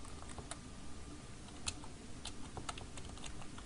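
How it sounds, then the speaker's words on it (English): Quiet, rapid clicking of keys on a computer keyboard as a word is typed into a search field, soft taps coming in a quick uneven run over a faint background hum. "so I'm going to type in the word juvenile."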